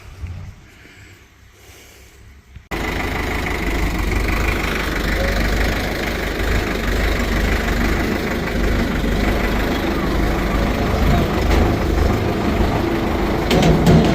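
A tractor engine idles at a farm loading spot, kicking in abruptly as a loud, steady, low rumbling drone that holds without break.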